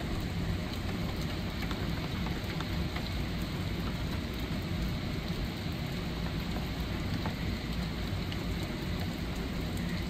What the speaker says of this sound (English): The hail started a few minutes ago